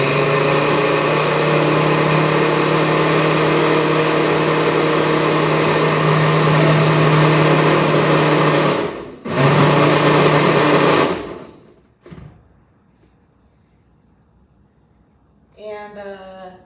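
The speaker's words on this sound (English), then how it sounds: "noise warning, by the way. The blender's over here," A blender blending a protein smoothie with vegetables whirs loudly and steadily for about eleven seconds, briefly dips and surges back, then cuts off, leaving near silence before a short faint sound at the end.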